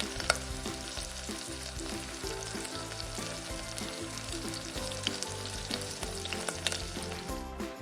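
Garlic and onion sautéing in a pan for a creamy pork mushroom dish, a loud continuous sizzle with steady stirring scrapes throughout, over faint background music; no one talks.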